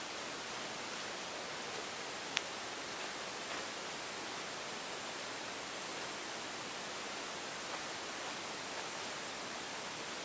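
Distant highway traffic makes a constant broadband rush like flowing water, steady and faint with no distinct vehicles standing out.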